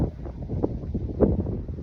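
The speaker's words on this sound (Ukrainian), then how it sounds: "Я трішки чекаю, коли вітер перестане." Wind buffeting a phone microphone outdoors, producing low, rumbling gusts and muffled thumps that rise and fall through the short stretch.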